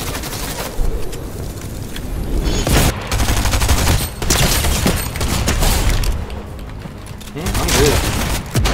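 Near-constant video game gunfire, loud overlapping bursts and volleys with brief lulls and occasional heavier booms, while players talk over it.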